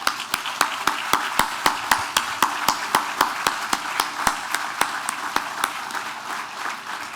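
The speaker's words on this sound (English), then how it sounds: "Please join me in giving them a round of applause." Sustained audience applause at a museum grand opening ceremony, a dense wash of many hands clapping steadily for several seconds with sharp individual claps standing out, moderately loud and with no talking.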